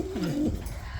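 A king pigeon gives a single short, soft, close cooing call that rises and falls briefly, with quiet surroundings and no talk.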